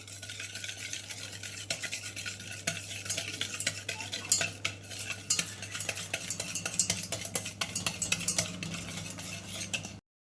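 A spoon stirring a cake batter of yogurt, sugar and baking soda in a bowl, giving close, repeated scraping and tapping strokes that quicken toward the end, with no talk.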